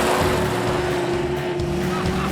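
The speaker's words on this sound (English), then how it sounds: "Gentlemen, start your engine." Race cars with reverse-designed bodies accelerating from a standing start, a loud continuous engine roar with a steady whining tone throughout, no talking heard.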